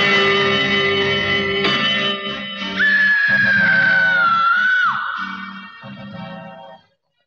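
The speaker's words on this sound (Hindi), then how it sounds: "अभी अभी मैंने किसी लड़की की चीख सुनी है, ऐसी खौफनाक चीख जैसे किसी लड़की का खून किया गया हो" A girl's terrifying, drawn-out scream rings loud through an old mansion, rising sharply and holding a long wavering pitch before fading, with a reverberant, echoing tail.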